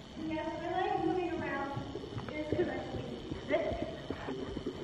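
Horse hooves clip-clop in a steady trotting rhythm while people talk over them.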